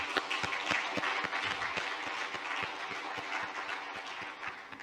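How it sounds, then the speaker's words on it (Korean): A church congregation gives sustained applause during a Sunday service, a continuous wash of many hands clapping with some louder, rhythmic claps standing out, heard from a moderate distance without speech. "우리 하나님 앞에 영광의 박수 한번 올려드리시죠"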